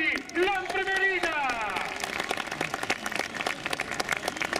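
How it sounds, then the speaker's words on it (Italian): Applause greets cycling race winner Davide Cimolai at the Trofeo Laigueglia, crowd clapping that builds after an announcer's voice fades, then carries on as dense, close clapping. "accogliamo con un grande applauso Davide Cimolai"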